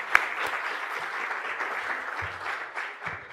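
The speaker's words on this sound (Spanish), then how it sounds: "Se trata de mi hermana Leida Galván, para la que le doy un aplauso" Audience applause at a sports forum in Panama, steady sustained clapping from a sizable crowd filling the room at moderate level, with no talk over it.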